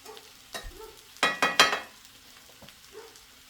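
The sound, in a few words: potatoes frying in oil in a cast iron skillet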